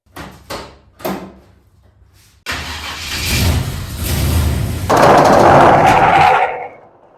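A Chevrolet Camaro is started inside a garage after a few door and handling clunks, its engine catching and rising to a loud, steady run as it pulls out, then fading away.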